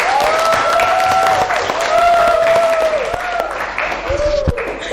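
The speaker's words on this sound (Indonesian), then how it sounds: "Baik, tepuk tangan untuk kalian semuanya." A classroom of students applauding together, steady dense clapping that carries on for several seconds with tonal voices and chatter rising over it.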